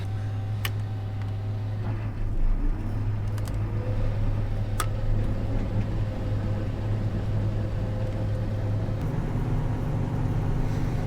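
A combine harvester engine at a barley harvest in Jamestown, South Australia, runs steadily with a deep rumbling drone, joined by a rising whine and a few sharp metallic clinks.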